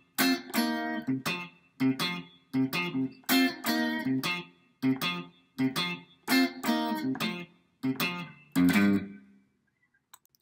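Guitar riff from the first bridge of a song, played as choppy, syncopated funk phrases with short bright notes and brief gaps, alone and upfront, ending on a ringing final note.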